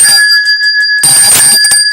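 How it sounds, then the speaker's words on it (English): A bell is rung to mark a correct quiz answer, a bright, loud ringing with a sustained metallic tone, struck once and then again about a second later, with no talking. "Ring the bell for Maggie P."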